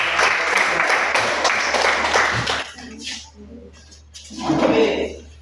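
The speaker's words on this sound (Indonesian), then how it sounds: "berikan aplaus" Classroom applause for a group that has just presented its discussion results: dense, fairly loud clapping for about two and a half seconds, which then stops abruptly and gives way to a voice speaking.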